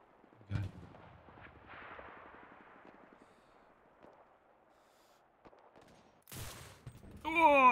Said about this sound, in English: That's a nice strafe shot.